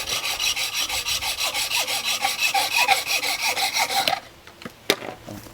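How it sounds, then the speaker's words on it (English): Rapid, rhythmic rasping strokes of sandpaper on the tip of a carbon sail batten, a steady scratchy back-and-forth for about four seconds, then a few lighter scrapes and a small knock. "sand the tip to make sure it won't burr"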